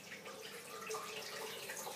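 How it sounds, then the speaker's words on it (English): Warm and cold water poured from a tap into a bowl set on a kitchen scale while measuring it for pizza dough; a steady, continuous splashing flow with no voices. "we need 430 grams of water, warm water"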